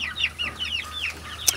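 Chickens let out of their coop for the first time cluck and chirp in short repeated calls, fairly close, with a brief sharper sound near the end and no talking.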